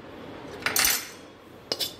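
Turmeric-coated raw mango pieces tipped from a metal pan into a cloth-lined basket, two short clattering pours with a brief scrape, close by in a quiet room.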